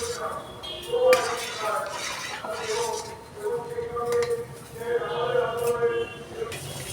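Butter paste cooking down into ghee in a pan, stirred with a spoon that clinks and scrapes against the metal in a few clustered bursts, with a voice talking over it.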